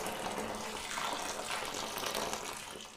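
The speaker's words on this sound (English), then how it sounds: "add a kettle full of boiling water" Boiling water pours from a kettle into a bucket in a steady, continuous rushing gush, close by, with no voices.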